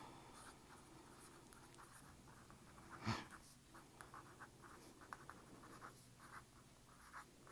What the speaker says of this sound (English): This is a felt tip pen.